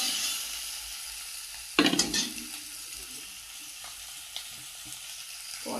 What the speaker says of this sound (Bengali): আর এদিকে কই মাছ ভাজা হচ্ছে